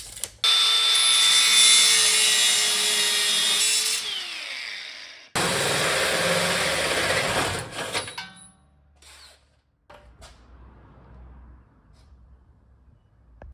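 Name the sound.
cutting chromoly steel tubing to length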